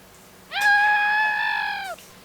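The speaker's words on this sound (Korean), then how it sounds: "아이들의 비명소리가 들립니다" A single sustained high-pitched scream lasting over a second, rising sharply then holding steady before breaking off, heard alone against a quiet background.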